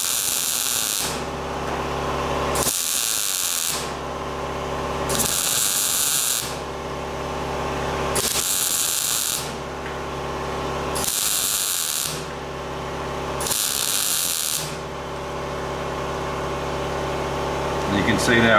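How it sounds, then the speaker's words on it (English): An air compressor in a workshop where a classic Jaguar is being lead-loaded cycles with a loud, even motor hum, while bursts of a hissing spray sound come and go in a regular on-off pattern and someone talks now and then. "sorry about the compressor"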